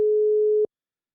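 A single steady telephone tone sounds once while a call is placed to a listener, clear and alone for about half a second before cutting off.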